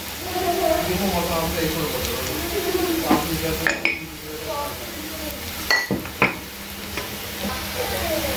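A spoon stirs chilli powder, turmeric and salt through red radish curry in a pan, with steady scraping and clinks and a light sizzle, while someone talks over it.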